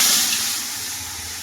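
Panch phoron spices fry in oil on a stove, giving a steady hissing sizzle that starts loud and eases slightly, with no talk over it.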